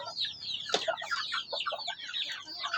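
Two young Asil stag chickens in a backyard coop cluck and chatter continuously, with overlapping close calls and one sharper squawk, and no one speaking.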